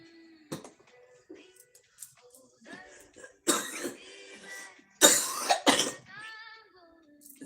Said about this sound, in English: So I get on live, the coughing starts.